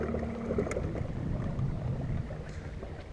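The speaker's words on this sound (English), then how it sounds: "this wind is beating me up" Gusty wind rushes across a 200-plus-acre lake around a small fishing boat, a steady low rumble with microphone buffeting and faint water movement, fairly close and with no talk.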